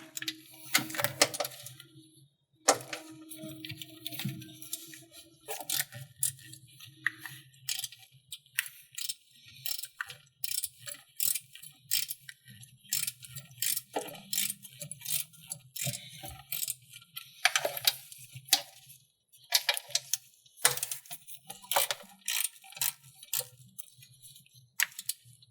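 Close, sharp ratchet clicks come in irregular bursts as 13mm bolts on a Tesla Model X battery tray are loosened, with quiet gaps between strokes and no voices.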